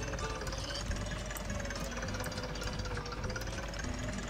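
Tractor engine in Agricultural Simulator Historical, a steady knocking idle with a rough mechanical chug, fairly quiet and continuous throughout, no voices.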